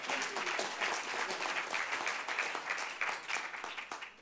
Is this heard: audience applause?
yes